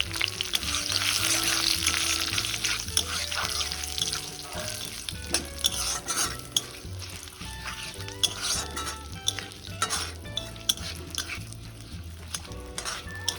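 Dried red chillies, cumin seeds and a bay leaf fry in hot oil, giving a steady, close sizzle with occasional clinks and scrapes of stirring in the pan.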